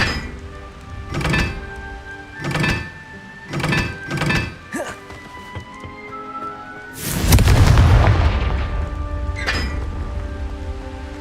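Several evenly spaced thuds lead into a loud burst from the Confringo explosion spell in Hogwarts Legacy, followed by a decaying rumble, over a steady tonal backdrop with one more thud near the end.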